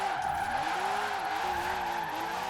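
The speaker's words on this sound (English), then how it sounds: "it could turn out to be a very good drift car" Car drifting in Forza Horizon 4, a budget classic supercar, with a steady engine drone and sustained tire skid squeal running loud and unbroken throughout.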